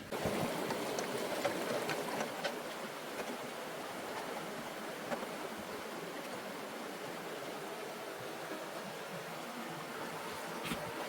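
Water and gravel washing steadily through a drop riffle sluice box fitted with a mat, making a continuous rushing, hissing flow with faint gritty patter, moderately quiet and unbroken.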